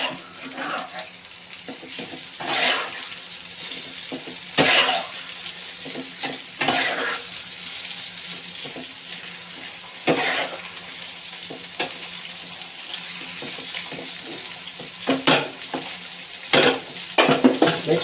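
Shinwari chicken karahi sizzles steadily in a pan while a spoon stirs and scrapes against the metal in irregular bursts, close and prominent, with occasional clinks of utensils and brief bits of talk.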